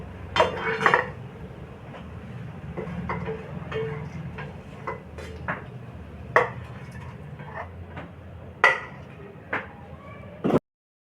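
Pans and bowls clinking and knocking on a kitchen counter while oil is poured into a small bowl, scattered sharp metallic taps over a low background hum, with speech in the background.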